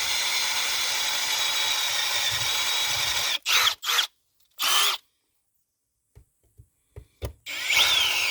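A power drill working a pilot hole in scrap metal, a sustained grinding whir that stops, then several short bursts of drilling separated by silence, with light knocks between them.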